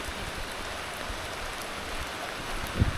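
Rain falling steadily in Sri Lanka, a continuous close hiss of drops with no voices, and one brief low thump near the end.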